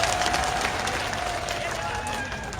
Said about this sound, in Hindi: मैं चाहूंगी कि एक बार सब लोग जोरदार तालियां बजाकर आपका स्वागत करें।